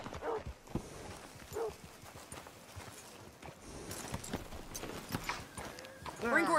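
Horse hooves clip-clop at a walk near a barn, a loose steady rhythm of moderate, close-sounding hoof strikes with people talking over them throughout.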